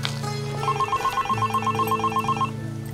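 A phone ringing with a repeated electronic trill, fairly loud and close, continuing steadily for several seconds.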